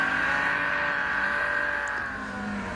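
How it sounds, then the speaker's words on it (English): A Honda Accord drives with a loud, steady engine drone and a sustained tonal whine that holds through the whole stretch, dipping slightly near the end, with no voices. "Definitely a Honda Accord."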